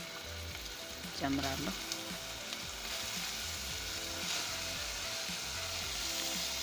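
Chopped red onion sizzles in hot oil in a pan, a steady, quiet frying hiss with occasional stirring scrapes while someone speaks briefly.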